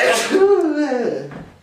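A single loud close sneeze with a sharp breathy onset that trails into a voiced drawn-out tail.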